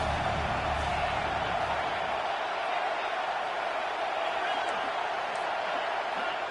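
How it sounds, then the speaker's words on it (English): Stadium crowd noise from the College Football 26 video game during a big third-down defensive play, a steady, dense roar of cheering that holds at an even level throughout, with no talk over it. "Big third down as the crowd gets behind this defense."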